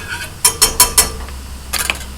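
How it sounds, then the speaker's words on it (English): Metal whisk knocking against a pot while stirring sugar for banana sorbet: a quick run of four sharp clinks, then a softer cluster of taps, close and alone with no talk. "take your whisk to your sugar so it all doesn't just clump"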